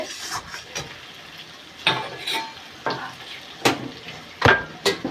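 Meat is slowly fried down in oil in a pan, with a steady sizzle broken by repeated scraping strokes of a spatula stirring it, close by and with no talking.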